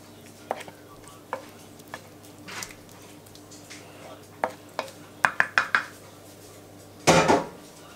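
A spoon clinks and scrapes against a dish while leek sauce is layered into a salmon lasagne, scattered single taps followed by a quick run of sharp clinks and a louder scraping clatter at the end.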